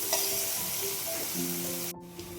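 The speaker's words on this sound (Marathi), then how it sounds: "कढईमध्ये तेल तापत ठेवलं, त्यामध्ये मोहरी, जिरे, हिंग, कांदा आणि आलं लसूणची पेस्ट घालून छान परतून घ्यायचं आहे आपल्याला।" Onion, mustard seeds, cumin, asafoetida and ginger-garlic paste sautéing in hot oil in a kadai for green pav bhaji, giving a dense continuous close sizzle with faint stirring scrapes that briefly drop off near the end.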